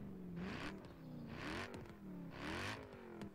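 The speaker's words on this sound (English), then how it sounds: "So let's hear this V8." A Mercedes C63 AMG V8 engine in Forza Horizon 4 revs up three times in a row, rising and falling in pitch, with a faint rattle between the pulls.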